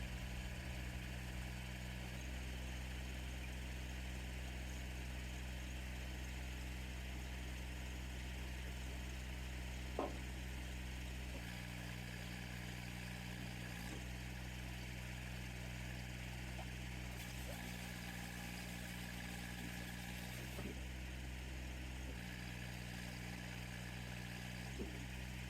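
Diesel skid steer engine idling steadily at a firewood-splitting site, a continuous low droning rumble with a few brief clanks, the engine's load shifting partway through.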